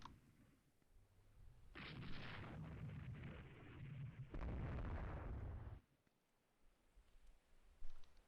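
Naval guns in the warship strategy game Rule the Waves 3 fire in a heavy, rumbling salvo of booming blasts lasting several seconds, then fall quiet before one more short thud.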